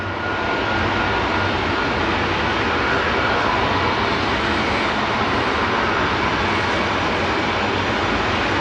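Steady, loud broadband roar of an aircraft turbojet engine spooling up from idle at Dallas/Fort Worth airport, running continuously, a dense rushing whine with no clear rise.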